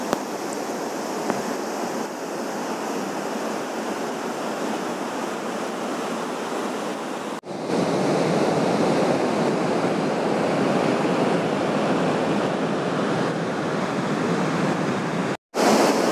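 A powerful, steady roar of water rushing out of a dam gate at Tenughat Dam on the Damodar River, Jharkhand, fills the whole stretch, loud and broadband, briefly cutting out before resuming.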